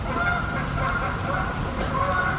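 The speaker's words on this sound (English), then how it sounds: "You can hear all the ducks in the background." Faint honking and quacking waterfowl call in the distance, scattered across a steady outdoor background.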